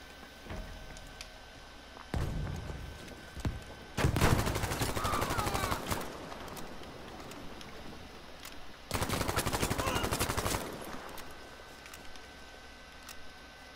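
Automatic gunfire in the battle royale game Battlefield V Firestorm comes in two long, loud rattling bursts. Quieter scattered shots and game ambience fill the gaps between them, with no one speaking.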